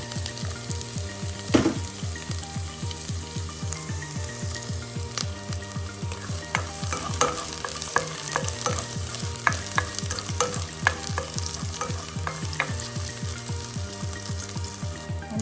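Garlic and onion frying in oil in a home kitchen for Filipino adobong sitaw crackle and sizzle loudly and close up, with steady spattering and occasional stirring scrapes, no voices.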